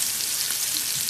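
Steak sizzles in a hot frying pan, a steady, close, dense hiss of frying that holds evenly through the whole short stretch with no talking.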